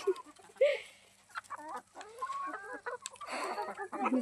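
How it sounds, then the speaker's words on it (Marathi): Chickens cluck close by while pecking at vegetable scraps in a home yard, a run of short, uneven clucks and a few louder squawks, fairly quiet with little background noise. "कोंबडा बघ कसं खाते"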